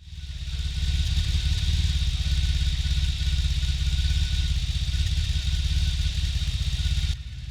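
A BMW R18 motorcycle engine drones steadily at close range with a low, pulsing rumble, fading in at the start and holding constant without speech.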